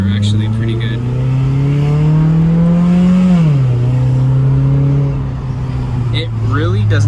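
Scion tC with a new aftermarket exhaust pulling hard through the lower gears: a loud, steady engine drone climbs in pitch, drops at a shift, then holds and rises again, heard from inside the car.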